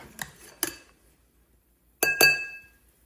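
A whiskey sour is shaken in a glass, giving sharp glassy clinks and rattling ice in two quick pairs separated by a pause, close and clear with no talk.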